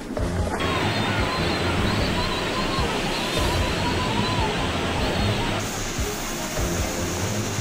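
Floodwater rushes steadily from the Weihe River in Hebi City after it burst its banks, a loud, unbroken roar and hiss that fills the whole stretch with no letup or distinct events.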